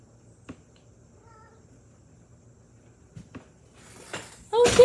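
A small cat gives a sudden, close, loud meow near the end, preceded by quiet room sounds with a few faint taps and a soft chirp.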